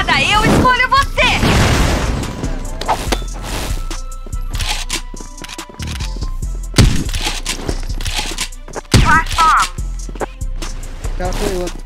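A grenade goes off in an online shooter, with heavy booms and crashes rising out of a busy mix of game noise while players talk excitedly over the action.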